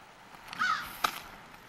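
A single crow gives a short rising caw, followed by a sharper second call, both faint over quiet background hiss.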